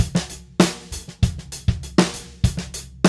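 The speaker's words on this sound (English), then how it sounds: "Now, let's add in the ghost notes and see what we come up with." Funk drum groove on a kit with ghost notes added, steady backbeat hits with soft snare strokes filling between them, played close and clear with no talking.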